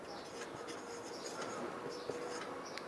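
Marker or chalk writing symbols one by one on a board during a set theory lesson, soft scratchy strokes in short bursts over a steady room hiss, no talking.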